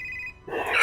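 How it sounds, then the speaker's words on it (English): A telephone starts ringing after a brief near-silent gap, a bright, fairly loud electronic ring that rises and builds toward the end, heard alone without voices. "Elliot, your phone rings."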